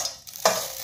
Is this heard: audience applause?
no